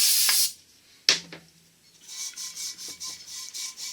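Scotch-Brite pad scrubbing the bearing race seats of a wheel hub on a Studebaker during wheel bearing and seal replacement, with brake cleaner spray: a loud hiss, then a series of quick rhythmic rasping strokes, close and alone.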